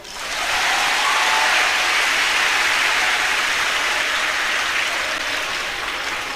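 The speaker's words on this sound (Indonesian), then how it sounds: "Tepuk tangan toh." Sustained audience applause at an Islamic religious gathering, a dense, even wash of clapping that swells quickly and holds steady for several seconds without speech.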